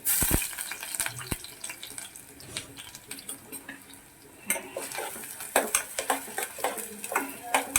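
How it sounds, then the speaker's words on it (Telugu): Ginger garlic paste goes into hot oil in a home kitchen pan, a watery hiss and sputter broken by clinks of metal utensils against the pan, loud and close, with a few faint voices in the background. "ఆయిల్ పెట్టుకొని కొంచెం అల్లం వెల్లుల్లి పేస్ట్"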